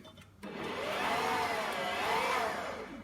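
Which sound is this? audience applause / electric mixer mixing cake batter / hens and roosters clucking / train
electric mixer mixing cake batter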